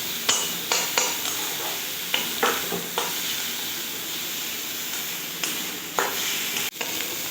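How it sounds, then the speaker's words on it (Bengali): Onions and garlic paste fry in a pan with a loud, steady sizzle, broken now and then by the scrape and clack of a stirring spoon, close and continuous. "রসুন বাটা আর একটু দিয়ে ভালো করে একসঙ্গে আবারও ভেজে নেব।"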